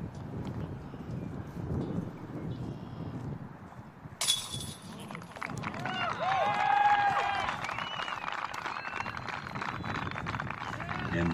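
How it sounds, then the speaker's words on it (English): A disc golf tournament crowd cheers an eagle on the last hole during the Waco Annual Charity Open, a rising roar with whoops and whistles that swells midway and stays loud, with a commentator talking underneath. "The crowd's going wild."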